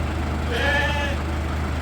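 A single wavering sheep bleat indoors at feeding time rises over a steady low engine-like hum, moderately loud and close.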